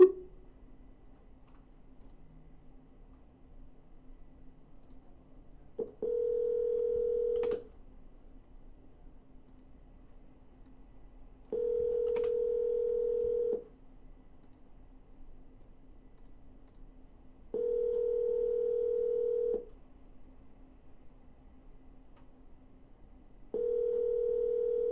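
A telephone dials out on a real estate cold call, giving four evenly spaced long ringback tones over a faint steady line hum, each tone lasting about two seconds and separated by brief clicks, with no voices.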